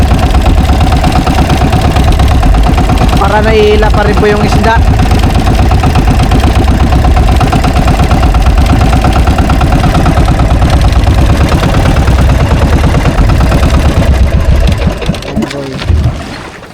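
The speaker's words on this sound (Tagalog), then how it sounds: "hindi niya po pinatay yung makina" A small fishing boat engine idles loudly and steadily at sea, a constant low throbbing drone that cuts off near the end, with brief talk partway through.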